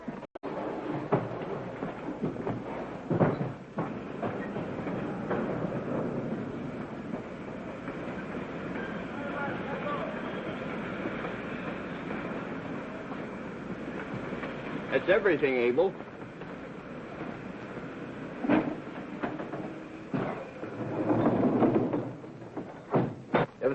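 A train on rails, aboard the Midnight Limited in a 1940 film, gives a steady low rumble and occasional clacks throughout, with someone briefly speaking over it.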